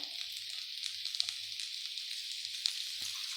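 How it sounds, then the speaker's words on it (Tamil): Cooked, mashed moong dal goes into a pan of sautéed mixture for Kumbakonam kadappa, giving a steady, soft sizzle throughout with a few faint low thumps and scrapes as it is stirred in. "இப்போ நம்ம இதை வதக்கிட்டோம் இப்போ நான் அந்த பாசிப்பருப்பை சேர்த்துக்கிறேன்"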